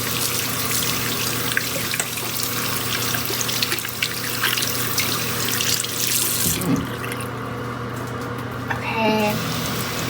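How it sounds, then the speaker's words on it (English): Hands are washed under a running bathroom tap. Water gushes steadily and close for several seconds, then cuts off, leaving faint drips and light clinks. "this is how I wash my hands"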